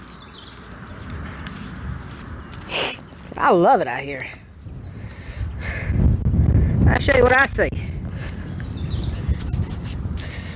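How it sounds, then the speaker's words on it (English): Outdoor birds call in the background of a quiet rural spot, with a few brief warbling notes rising under a man's close speech, alongside light wind. "You can hear the birds."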